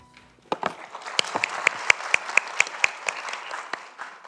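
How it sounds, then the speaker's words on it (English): A conference audience at the Taiwan International Geothermal Conference 2024 breaks into applause after a brief quiet moment, a burst of clapping with sharp individual claps standing out, sustained for several seconds before tapering. "Let's give a round of applause."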